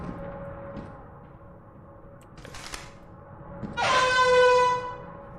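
A loud, brassy air horn in the game Destiny blares once for about a second, following a few faint thuds and a brief burst of noise.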